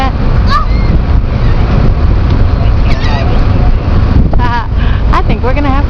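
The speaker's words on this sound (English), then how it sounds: "Bring a loaf of bread and you could feed the seagulls." Seagulls call repeatedly near and far, sharp yelping cries scattered over a loud rumbling wind and engine-like background, with a voice speaking at times.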